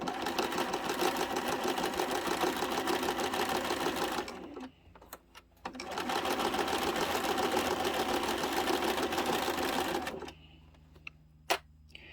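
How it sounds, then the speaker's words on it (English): A sewing machine stitches piping cord onto the front pocket of a hip bag in two long steady runs, each several seconds, separated by brief pauses, then a few faint clicks near the end. "We want to be stitching on this stitch line or even closer to the piping cord."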